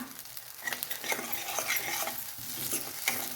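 Ground curry masala for egg curry roasting in oil over a low flame, in a pan up close: a soft crackling sizzle with busy scraping and stirring throughout, fairly quiet overall, no voices.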